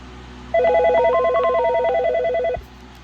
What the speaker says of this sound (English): this has its own little tune that it plays when the phone rings as well